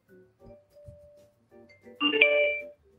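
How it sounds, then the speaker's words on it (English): A phone rings with a short electronic ringtone burst near the end, following quiet scattered sounds, fairly close and clear. "No, that was a phone call."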